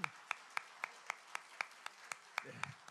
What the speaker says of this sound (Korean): 예, 박수하겠습니다